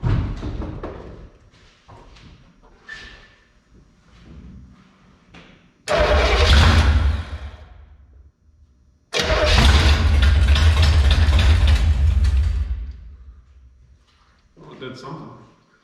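An old Impala's engine, fed ether in place of gasoline, cranks and fires up loudly twice in roaring bursts of several seconds, with quieter stretches of talk and small clunks before and between them.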